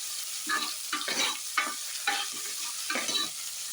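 Tomatoes fry in a pan, giving a soft sizzle broken by repeated scraping stirs from a spoon at a steady rhythm, close up and fairly quiet with no talk.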